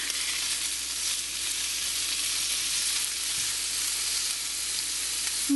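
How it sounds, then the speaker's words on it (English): Bacon sizzles steadily in a preheated pan for a cassoulet, a dense, even crackle of frying fat that holds close and loud throughout with no talking. "So I'm going to first add my bacon"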